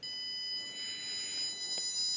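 Arduino-built security alarm set off when an obstacle blocks its sensor, giving a steady high electronic tone that holds throughout, with faint background noise and no talk.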